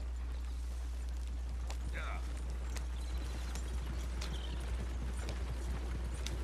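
Horses drawing a wagon in Red Dead Redemption 2 give steady, fairly quiet clip-clopping hooves under a constant low hum, with faint sharper clicks scattered through.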